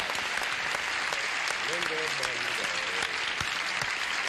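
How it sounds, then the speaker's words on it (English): Studio audience applause on a game show, steady dense clapping throughout with some voices and a brief vocal sound audible partway through. "Applause, applause, applause."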